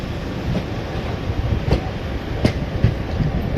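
Inside the Lucknow Intercity superfast train between Shahganj Junction and Akbarpur, a steady loud rumble of wheels on rails with intermittent clacks and thumps from the carriage as it runs.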